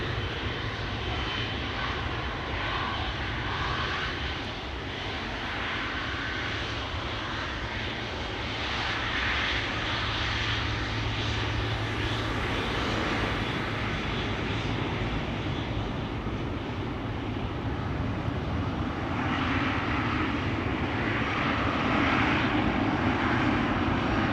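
Jet engines of a 17-year-old KLM Boeing 777-300 at Schiphol Airport produce a sustained, powerful roar with a steady low drone, close and loud throughout, with no one speaking.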